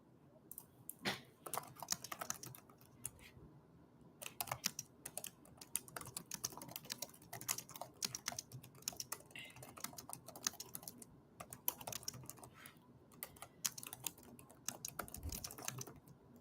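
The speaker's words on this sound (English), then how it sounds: "I was just typing to you" Steady typing on a computer keyboard, a continuous stream of quiet clicking keystrokes with brief pauses, close and faint.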